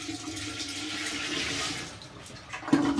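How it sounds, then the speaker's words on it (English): A household toilet flushing after being unclogged, a steady rushing swirl of water heard close up, easing off before a brief refill hiss begins near the end. "There, she flushed."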